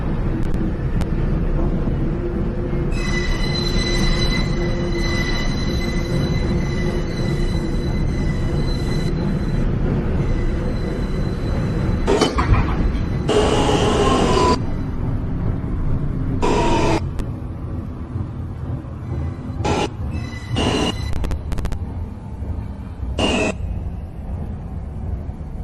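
An N subway train pulls into Astoria-Ditmars Boulevard, the last stop, with a long continuous rumble and a high squealing whine. Sharp brake hisses and bursts follow as it slows and settles.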